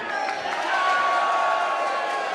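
A wrestling crowd at a live show in New York cheers in a steady roaring wash, fairly distant and sustained, with no individual voices standing out.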